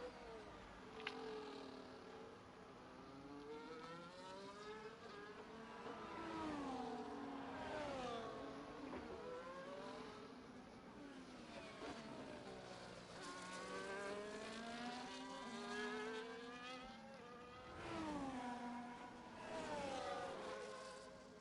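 Onboard Mercedes race car engine in a racing game at the Austria circuit, a loud whining engine note climbing and dropping through repeated gear shifts and braking, with no talk.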